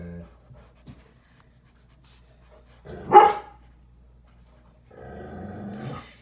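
A pet dog barks once indoors in a house, a single sharp bark in an otherwise quiet room, followed a moment later by a low rumbling sound.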